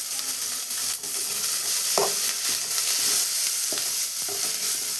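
Food sizzles loudly in a hot pan while being stirred, with steady frying crackle and a few distinct scrapes and knocks of the spoon against the pan.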